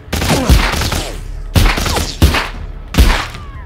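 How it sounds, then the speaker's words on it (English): Gunshots from the Walking Dead VR video game. Four loud, booming shots land roughly a second apart, each with a low thud and a fading tail. "Shot my damn gun."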